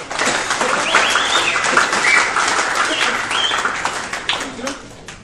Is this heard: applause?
yes